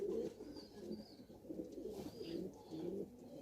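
Pigeons cooing in a rhythmic series of soft low coos, fairly near but quiet, repeating every half second or so with faint background noise and no talk.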